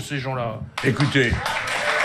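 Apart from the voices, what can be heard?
audience applause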